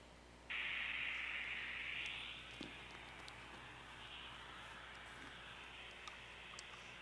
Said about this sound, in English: this is my mobile phone that I'm just going to pop some white noise on with